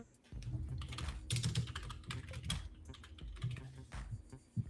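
Someone types on a computer keyboard close to the mic, giving uneven bursts of clicky keystrokes with short pauses between flurries and no speech.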